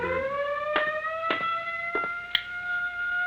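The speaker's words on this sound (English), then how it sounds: "Turn off the siren." A steady multi-tone prison siren wails continuously, holding a constant pitch, with a few sharp clicks breaking through; no voices.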